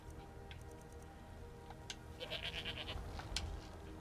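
Goat bleating in Skyrim, a pack goat companion, with short bleats sounding near and moderate over a steady low game ambience.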